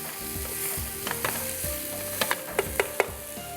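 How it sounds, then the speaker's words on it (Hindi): Onions and garlic sizzling steadily in a hot pan, with a few sharp clinks and scrapes of a utensil stirring near the end, close and fairly quiet. "अब इसमें शामिल कर देंगे हम लहसुन, और इसको भी थोड़ा सा फ्राई करेंगे।"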